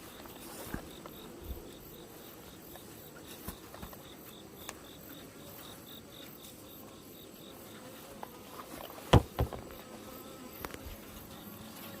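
Faint, persistent buzzing and droning of large hornets caught in a hornet trap, with scattered clicks and a couple of sharper taps, quiet and close.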